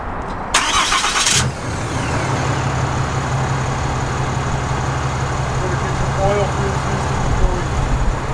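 Cummins diesel truck engine, cold, starting with a loud burst of cranking then settling into a steady low idle that runs on, with voices talking faintly over it.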